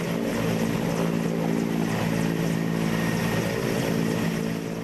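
Helicopters at a naval air station give a loud, continuous, dense rotor and engine roar that stays steady throughout, close and with no voices.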